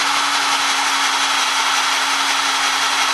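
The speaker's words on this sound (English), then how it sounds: "we're trying to drill through that bolt" A power drill grinds steadily into a bolt during a down pipe install on an Infiniti Q50, a loud, close, continuous whine with a constant tone and no speech.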